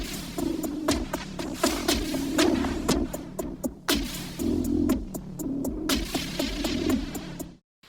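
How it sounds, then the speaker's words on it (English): A half-speed music track runs through Ableton's texture warp mode with adjusted grain size and flux, transposed up an octave, giving a pulsing, grainy pattern of sharp repeated hits over a humming bed, stopping abruptly near the end. "So this one I chose texture and just affected the grain size and the flux,"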